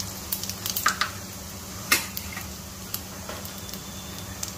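Cumin seeds crackle and pop in about a spoonful of hot oil for a chilli sauce, scattered sharp snaps over a low steady sizzle, close by.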